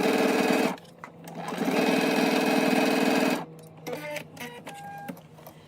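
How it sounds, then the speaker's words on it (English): A sewing machine runs in two bursts while understitching a seam allowance for a Know Me ME2030 garment, a loud close rapid whirring rattle separated by a short pause, then quieter clicks and handling noises. "when understitching, you want to make sure that you are stitching on top of your seam allowance"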